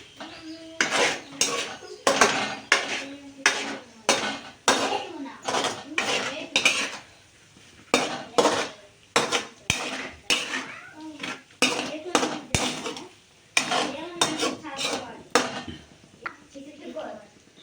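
Egg fried rice is stirred in a pan with a metal utensil, producing repeated rhythmic scraping and clanking strokes in quick bursts with brief pauses, close and clear.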